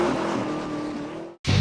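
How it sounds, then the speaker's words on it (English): A supercharged Chevrolet Camaro supercar roars at high speed around a road racing track, its steady loud engine drone sustained before cutting out abruptly and surging back in a burst of power. "Coming up, Mario Andretti puts the supercar through the paces of speed, braking, and carbon corn."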